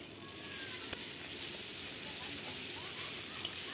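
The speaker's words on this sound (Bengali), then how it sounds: "রসুন বাটা দিয়ে ভালো করে মেরে নেব বন্ধুরা।" Garlic paste added to frying onion crackles in a hot pan as a soft, even sizzle that runs throughout at low level, with one small clink near the start.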